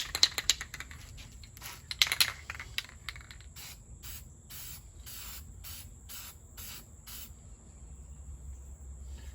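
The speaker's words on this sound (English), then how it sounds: "Gotta love these rattle cans." An aerosol rattle can of spray paint: a few clicks and rattles, then a series of short, hissing spray bursts at a steady rhythm, close and moderately loud.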